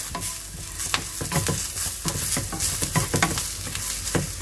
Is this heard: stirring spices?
yes